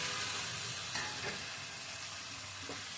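Fish pieces frying in a pan of spice paste made with green chilli paste and turmeric, a steady broadband sizzle with a few soft stirring scrapes, close and continuous with no voices.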